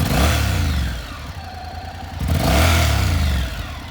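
A 2020 Honda NC750X DCT motorcycle with ABS and automatic transmission runs close by, its engine note swelling in two gentle revs with a quieter idle between them.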